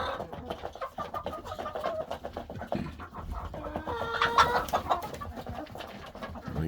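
Backyard chickens cluck softly and intermittently among ducks, with a busier run of clucks near the end, all fairly quiet and at close range.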